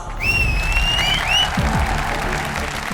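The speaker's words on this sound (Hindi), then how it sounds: "एक बार फिर तालियां।" Audience applause for a lively dance performance by circus dancers on a TV show stage, a dense burst of clapping from a crowd that carries on steadily throughout, loud and close, with faint whistle-like tones near the start.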